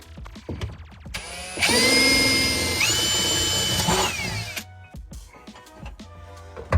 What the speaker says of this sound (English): I'm just gonna go ahead and drill some pilot holes